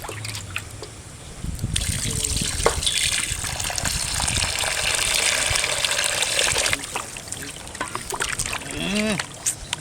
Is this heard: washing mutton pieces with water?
yes